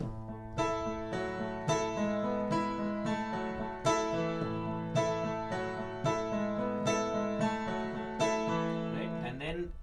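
Slow piano chords strike in a steady rhythm over a sustained low bass note, each chord ringing out before the next.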